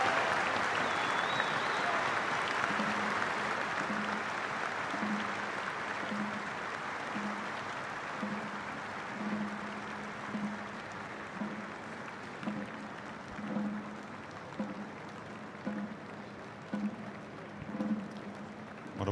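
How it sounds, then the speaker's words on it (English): A stadium crowd applauds at an Anzac Day ceremony before an A-League football match between Brisbane Roar and Adelaide United, broad sustained clapping with a faint repeating low thud and a voice briefly over it. "please keep that applause going for the Australian Defence Force personnel who have participated"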